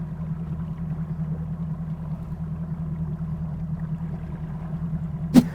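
Boat engine idling low and steady while drifting around a brush pile on a fishing lake, a constant nearby rumble with one brief sharp knock near the end.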